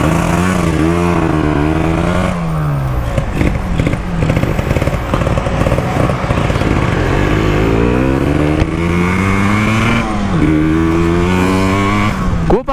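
Yamaha RX King motorcycle fitted with a Kawasaki Ninja 150 engine, revving hard and continuously with rising and falling pitch sweeps, loud and close, with a high-strung buzzy exhaust note throughout.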